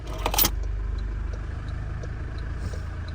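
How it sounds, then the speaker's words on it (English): A Toyota Land Cruiser engine turns over with a brief rattling burst, then settles into a steady, low, close idle rumble. "Start the car."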